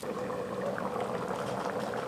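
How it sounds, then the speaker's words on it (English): Chicken curry boils in a pot, a steady close bubbling and simmering that fills the short stretch without pause, no voices over it. "So we're almost done with our chicken curry here. Everything is bubbling up nicely."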